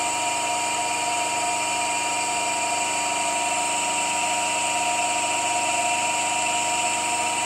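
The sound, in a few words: asynchronous electric motor running in resonance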